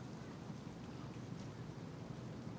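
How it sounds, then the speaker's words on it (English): Steady ocean surf washing ashore on a beach in the Philippines, a continuous broadband rush with wind across the microphone and no distinct individual wave breaks. "ocean out in front of me, waves crashing"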